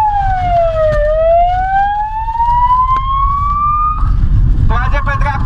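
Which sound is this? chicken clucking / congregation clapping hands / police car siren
police car siren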